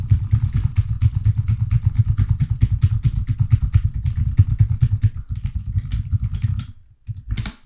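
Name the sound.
fast typing on a computer keyboard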